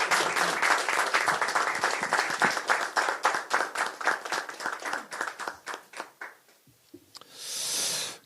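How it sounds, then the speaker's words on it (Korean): An audience claps in support at a Democratic Party political rally in Incheon, dense applause that gradually thins into scattered claps before a brief pause and a short burst of noise at the end. "여러분 큰 응원의 박수를 부탁드립니다"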